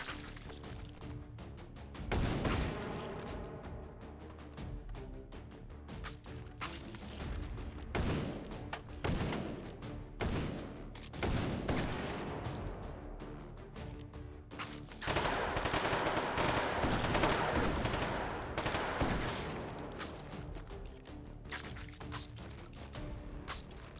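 Gunfire in the VR shooter game H3VR Take & Hold, with dense bursts of rapid automatic shots and sharp single cracks mixed with impacts and clatter, loud and sustained throughout.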